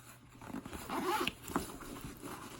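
A zipper runs along the front pocket of a diaper bag backpack, giving a couple of short, close rasping pulls against quiet room tone.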